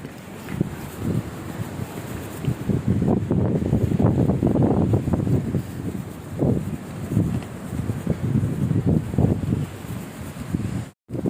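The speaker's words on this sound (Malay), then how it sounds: "tapi angin kuat sangat" Strong wind at a beachside campsite in Mersing, Johor buffets the microphone in heavy, gusting low rumbles that swell and fade throughout, with no voices.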